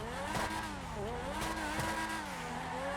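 Truck spinning its wheels in GTA 5, fitted with F1 wheels: a steady, continuous engine drone with wavering pitch, as if revving under load, and a tire-squeal edge throughout, with no talking.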